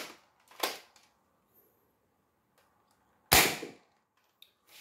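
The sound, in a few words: Nerf Rival Knockout mod blaster firing darts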